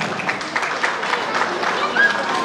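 Audience applauding at a La Salle school graduation party in Puerto Maldonado, steady clapping from a crowd with voices mixed in and a brief high whistle-like tone near the end.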